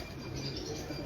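A Johnsar-breed pigeon kept by a fancier in Lahore, cooing softly beneath a constant broadband hiss, the low murmuring calls faint and close.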